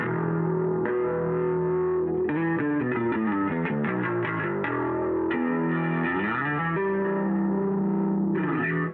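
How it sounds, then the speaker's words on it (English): Bass guitar runs through a dual pitch pedal set for a warm chorus, one voice detuned ten cents up and one five cents down, so sustained notes and slides shimmer thick and wide, loud and close for the whole stretch. "I'm mainly using the dual pitch for a nice and warm chorus type sound"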